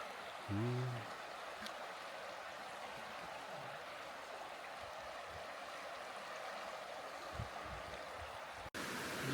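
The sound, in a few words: flowing stream water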